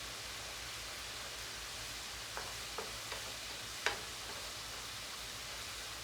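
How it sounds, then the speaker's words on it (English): Garlic and ginger sauté in a pan with a soft, steady sizzle, then a few light scrapes and taps of a utensil through the middle, against a quiet background. "In goes my garlic. In goes my ginger. We're going to saute this in."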